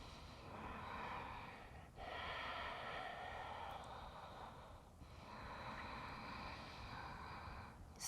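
Slow, deep yoga breaths, with long airy inhales and exhales in a few cycles, faint and close, with no talking.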